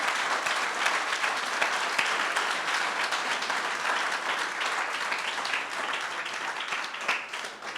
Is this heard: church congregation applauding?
yes